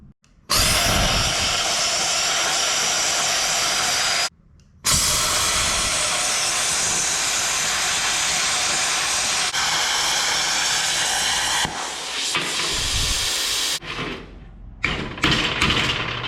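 Plasma cutter slicing steel for a small rocket stove, a loud steady roaring hiss that runs in long unbroken bursts with a brief gap, then tapers into sputtering stops near the end.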